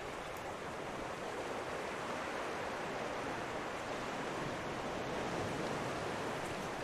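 Ocean waves in the survival game Raft, a steady, dense wash of surf noise that keeps on without a break and with no talking.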